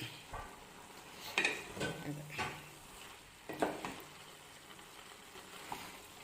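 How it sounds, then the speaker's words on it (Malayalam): A ladle stirs thick avial, a Kerala mixed vegetable curry, in a pot, giving soft scraping and clinking strokes with a faint simmer underneath, several distinct stirs spread across a few seconds. "ഇതിൻ്റെ പരുവം എന്തോ ആയെന്നുള്ളത് നമുക്കൊന്ന് ഇളക്കി കൊടുക്കാം."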